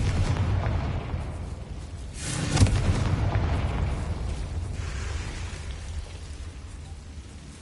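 Confringo blasting spells exploding in the Hogwarts Legacy video game, a dull rumbling boom swelling in the middle over a continuous low roar, with no talking.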